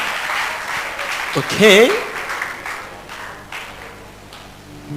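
An audience applauds in a continuous, steady wash of clapping, with a voice speaking briefly over it.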